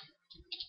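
Typing on a computer keyboard: a few soft, separate keystroke clicks in a quiet room.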